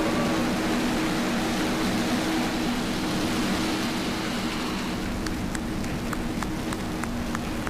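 SpaceX Falcon rocket lifting off at launch, a loud continuous roaring rumble filling the space, steady and broad, with faint crackling and clicks toward the end.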